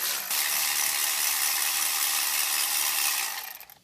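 A power ratchet spins out bolts on a Ford 6.0 Powerstroke diesel engine, a continuous high whirring buzz for about three seconds that winds down at the end, close up.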